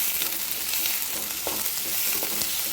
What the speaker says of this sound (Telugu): ఆయిల్ వేడయ్యాక ఆనియన్స్ వేసుకుందాం.